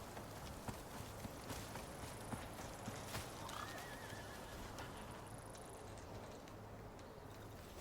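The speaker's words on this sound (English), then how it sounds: "Horse over there." A horse neighs once, faint and distant, amid scattered hoof clops and ambient wind in the survival video game Icarus, with no talking.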